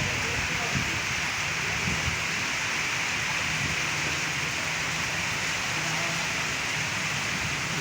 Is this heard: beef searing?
no